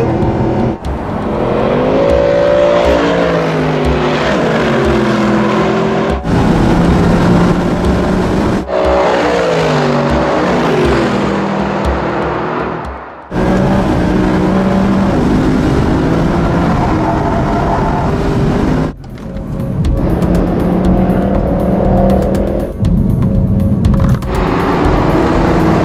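A Mercedes AMG Black Series runs hard around Big Willow at Willow Springs International Speedway, its engine loud and close as it climbs through the revs, shifts gear and lifts off, with several breaks between runs.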